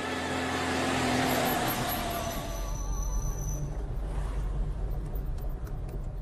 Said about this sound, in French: Ce couinement vous tape sur les nerfs? À moi aussi. Ouais. Ça vient des freins. C'est eux qui couinent.